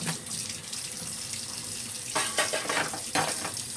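Tap water runs steadily into a kitchen sink, with louder splashing surges as the stream is moved around to rinse the basin; close and alone, no talking.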